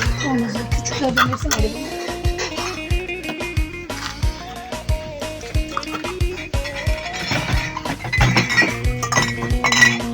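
Glass jars of homemade tomato sauce being closed with lids, giving a quick run of bright clinks and taps of glass and metal, close by, while someone speaks over the clatter.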